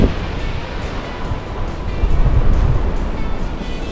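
Ocean surf rolls continuously along the Carmel coastline in Monterey, California, a loud, steady wash of breaking waves with wind buffeting the microphone and a slight swell in the middle.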